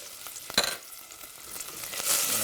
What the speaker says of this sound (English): That bacon's rendering down nicely.